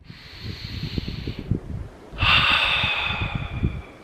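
Slow breathing sits close to the microphone, first a long hissing breath with a faint low rumble, then a stronger, louder exhale that rushes and fades, with no talking.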